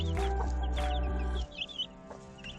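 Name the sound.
hen and chicks clucking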